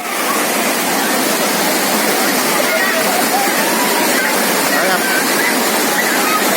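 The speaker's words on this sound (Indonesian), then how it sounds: "Air terjun rayap yang sangat megah, sangat indah yang ada di Blangkulam" The Rayap waterfall at Blang Kulam in North Aceh gives off a dense, continuous roar of falling water, loud and steady throughout with no break.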